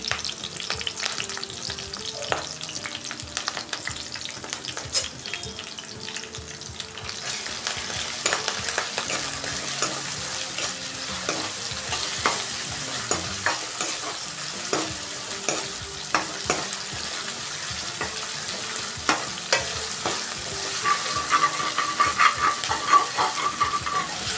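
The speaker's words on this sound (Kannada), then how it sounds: "ತುರಿದಿಟ್ಕೊಂಡಿರೋ ಬೆಳ್ಳುಳ್ಳಿ ಶುಂಠಿನ ಹಾಕಿದೆ. ಇವಾಗ ಕರಿಬೇವು ಒಂದು ಬಿಡಿಸಾಕಿದೆ, ಒಂದು ಹಂಗೆ ಹಾಕಿಬಿಡ್ತಾಯಿದ್ದೀನಿ" Grated garlic, ginger and curry leaves frying in hot oil for a rohu fish curry, a steady crackling sizzle with frequent sharp pops and occasional stirring scrapes, close and continuous, growing slightly busier toward the end.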